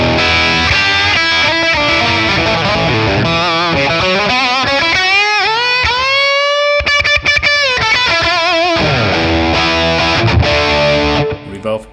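Electric guitar through a Matchless Laurel Canyon amp capture with a Klon Centaur overdrive plays loud, driven lead lines, with sustained bending notes in the middle and busy phrases around them.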